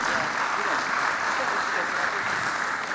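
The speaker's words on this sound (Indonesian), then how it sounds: "Dr. Ana SKG MPD, tepuk tangan." Audience applause at a national teachers' day seminar, a steady dense wash of clapping lasting about three seconds with possible voices mixed underneath.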